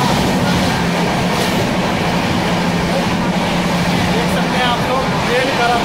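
A passenger train runs fast along the rails after leaving Patna, with a loud, continuous rumble and a rhythmic clickety-clack of wheels close by.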